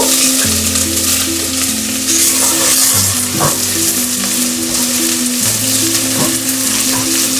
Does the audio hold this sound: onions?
yes